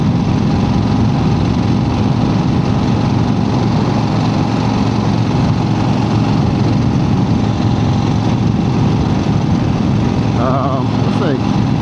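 A 1975 Harley-Davidson XLCH motorcycle cruises on the road. Its engine gives a steady, unbroken low rumble under heavy, constant wind roar throughout.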